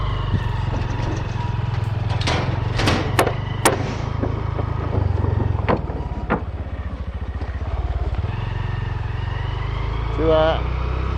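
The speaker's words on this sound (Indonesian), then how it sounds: "Kita akan mengikuti terus motor Verza ini menuju SP10" A Verza motorcycle riding along a road on a trip to a transmigration settlement in North Kalimantan, its engine droning steadily throughout with clattering knocks and passing noises, close and fairly loud, a voice speaking over it.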